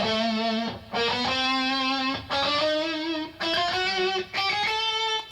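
Distorted electric guitar climbs a chromatic scale from E, three notes per string, in sustained phrases broken by short gaps, loud and close with no talking.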